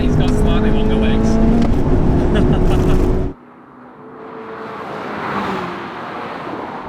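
Subaru BRZ and Mazda MX-5 at full throttle in a drag race, a loud close engine drone cutting off abruptly partway through, leaving a softer, distant rush of engine and road noise.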